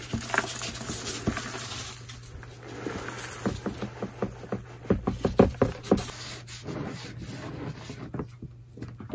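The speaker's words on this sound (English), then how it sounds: "Now I'm simply going to throw out all of the old substrate." Old substrate is dumped out of a snake tub: a series of close, loud rustling and pattering bursts of loose bedding, irregular and clustered, with quieter gaps between.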